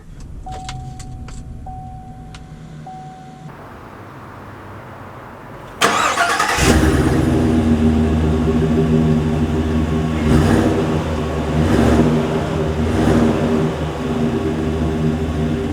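2020 Chevrolet 3500 work truck with a 6.6-liter gas V8 starting up after a few soft clicks and a whirring motor, then a loud, steady idle and revving as it sets off, close and without talk.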